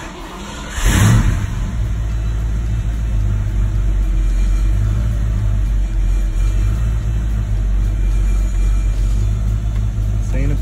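A 1987 Ford Mustang GT with its 5.0 V8 runs steadily in a garage, a loud, close, deep rumbling idle that holds even throughout after a brief surge near the start.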